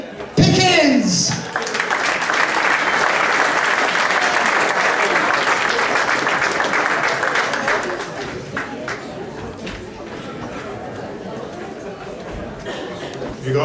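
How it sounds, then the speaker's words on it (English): A club audience at a comedy night bursts into loud, sustained applause with some cheering and chatter, welcoming a performer onto the stage and tapering slightly over about fourteen seconds. "give him a round of applause"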